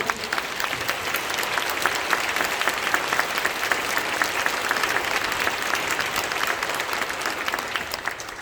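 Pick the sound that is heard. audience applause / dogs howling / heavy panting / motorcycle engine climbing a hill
audience applause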